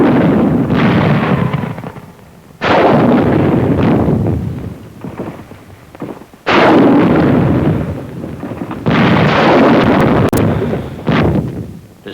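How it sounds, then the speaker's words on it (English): Heavy booming blasts from bazookas firing on Japanese tunnel positions in rough hill country during wartime, four or five loud roaring explosions with long rumbling tails, heard in old combat footage without voices. "Bazookas fire on Jap tunnel positions at hill number 1."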